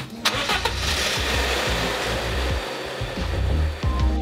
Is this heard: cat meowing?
no